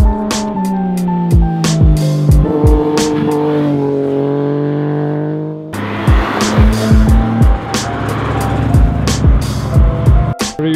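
Cars accelerate and pass close by, tires squealing repeatedly as engines rise and fall in pitch, loud and near, with several passes in a row and no talking.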